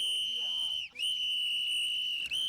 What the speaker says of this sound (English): What's up with the whistle?